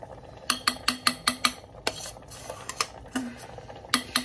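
Noodles being stirred and folded in a smoky pan, a series of sharp utensil clicks and taps against the pan in a quick rhythm, then a few scattered knocks, close and fairly quiet.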